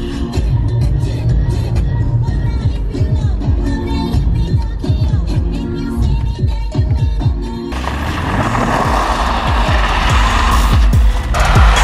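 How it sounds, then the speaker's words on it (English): A car drifts close by with engine roaring and tires squealing in long sliding bursts, continuous and loud, shifting to a harsher broadband rush of spraying grit and wind partway through. "we are back in the car and we are going to drift"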